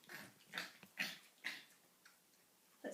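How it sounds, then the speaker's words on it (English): A pet dog vocalizing in short grumbling, talk-like bursts, about five moans and whines in quick succession at close range, fairly quiet, with brief pauses between them and no human voice. "My dog Clyde talks to me every day."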